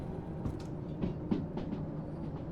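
A train backs out in the Derail Valley simulator game, with a low rumbling drone and soft periodic clanks from the cars. Moderately quiet, no voices.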